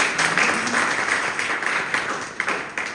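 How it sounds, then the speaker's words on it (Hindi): An audience applauds loudly for Shiva sir at a business plan meeting, a dense, steady burst of clapping that runs the full length and tapers slightly at the end. "एक बार जोरदार तालियां चाहेंगे शिवा सर के लिए।"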